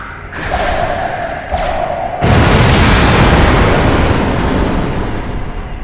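Crates packed with bombs blow up under fire in the space game Star Trek Online, a loud booming blast at about two seconds followed by a dense, sustained rumble of debris and fire that stays loud to the end.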